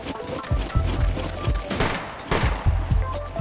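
Gunfire in the SCUM survival game, bursts of loud sharp shots cracking out in an irregular rhythm, several in quick succession, close by and with no talk over them.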